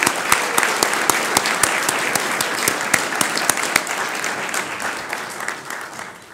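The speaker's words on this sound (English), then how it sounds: "A round of applause for our head table guests." Loud applause at a National Press Club luncheon for the head table guests, dense clapping with sharp individual claps ringing out in a steady rhythm, slowly thinning toward the end.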